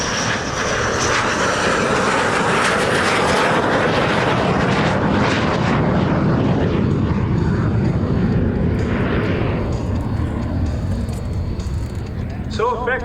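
A T-33 jet flies low and slow at an airshow, its engine a loud, continuous roar that swells and fades as it passes, with an announcer talking over it.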